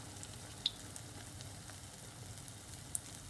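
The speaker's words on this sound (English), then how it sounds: "Make sure you fry these on a medium flame so they don't burn" Urad dal vada fritters frying in oil over a medium flame, giving a faint, even sizzle with a couple of tiny pops and no voices.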